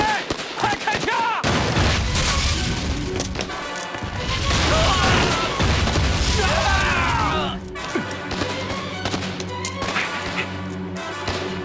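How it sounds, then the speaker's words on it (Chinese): Gunfire rings out in a battle scene from a wartime period drama, with loud bursts of shots, crashes and thuds tumbling together over shouting voices and dramatic backing sound. "有游击队，快开枪！"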